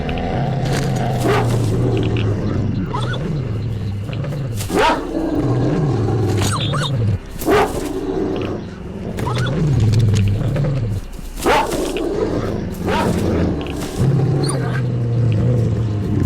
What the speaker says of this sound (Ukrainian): Собака дика.